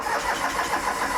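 A Norton motorcycle engine runs just after starting, with a continuous, fairly loud, even mechanical rumble and no voices.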